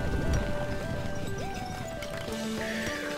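Horses' hooves clip-clopping steadily as cavalry rides into a Stronghold 2 game battle, with occasional neighs, a continuous busy patter of hoofbeats over game music tones.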